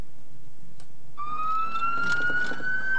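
An ambulance siren on a 2003 Crestline emergency vehicle starts after a faint click and a brief pause, then holds a steady rising wail, moderately loud, with no voices.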